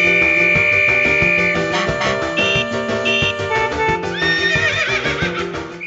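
A horse whinnies with rising and falling squeals, set over a busy, tuneful musical background with no talking.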